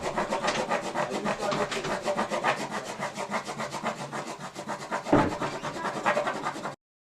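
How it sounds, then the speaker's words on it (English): A crayon is scribbled across paper to color a drawing of a Rubik's Cube, producing a close, rhythmic scratchy rubbing that repeats steadily and then stops abruptly. "take your crayon and color it."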